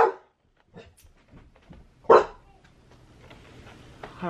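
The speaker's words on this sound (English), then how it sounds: "My dog heard someone barking and..." A dog barks in a few sharp, separate bursts, one loud and close, with quieter yips and whimpers in between and near-silence around them.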